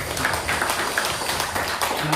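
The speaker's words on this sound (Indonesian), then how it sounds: "Tepuk tangan dulu Pak." A crowd at an inauguration ceremony for a BKSG branch board in the Serang region applauds, a continuous, moderately loud patter of many hands clapping that runs evenly throughout.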